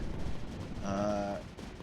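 Cannons firing in the strategy game Creeper World 4, a short burst of blasts with a ringing tonal edge, heard alone without talk.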